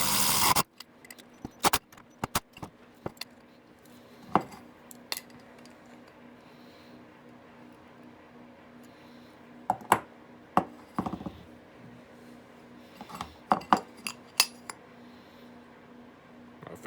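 Hard steel bolt being driven into a soft aluminum pulley hole, heard as a series of sharp metallic clinks and taps spread irregularly over a quiet background, some in quick clusters.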